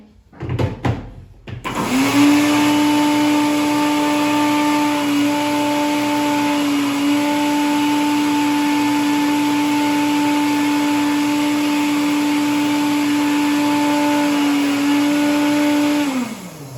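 A blender whirs steadily at full speed, chopping green leaves. A sharp clatter at the start gives way to a loud, even motor whine that holds for about fifteen seconds, with no talk.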